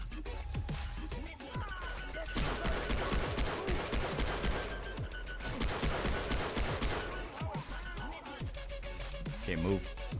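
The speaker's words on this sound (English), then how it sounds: "chubby machine gun" Machine gun fire in the first-person shooter Far Cry 3 rattles in long, dense sustained bursts, loud and continuous, with game effects and a faint voice underneath.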